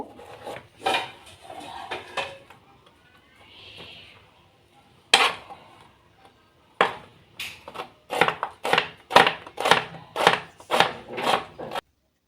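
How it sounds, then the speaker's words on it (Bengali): A knife finely chops cucumber, carrot and tomato on a board, close by: a few scattered cuts at first, a pause, then a quick, steady run of crisp taps. No one talks. "এখানে আমি নিয়েছি শসা গাজর টমেটো এই সবগুলোকে আমি সুন্দর একটু কুচি কুচি করে কেটে নিব"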